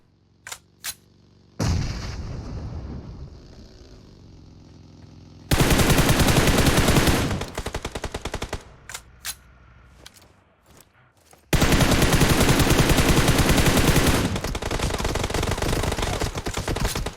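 Bursts of automatic gunfire in PUBG Mobile, loud sustained volleys broken by gaps and a few isolated single shots.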